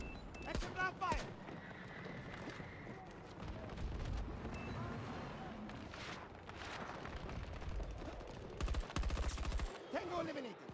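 Battlefield 2042 gameplay: XM weapon gunfire in rapid bursts with booming impacts and explosions, loud and dense, clustering at the start and again near the end.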